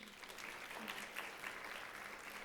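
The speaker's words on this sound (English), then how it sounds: "let's end today's session with a big round of applause for Ms. Gita Goven" Audience applause at the close of a lecture session, a dense steady wash of clapping from a large crowd that holds even for the whole stretch.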